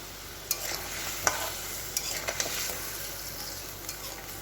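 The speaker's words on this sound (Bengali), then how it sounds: "এবারে ভাজা মাছগুলো মশলার মধ্যে দিয়ে দেবো কড়াইতে।" Fried fish being stirred into a spice paste in a wok, a continuous hot sizzle broken by several sharp spatula clinks against the metal.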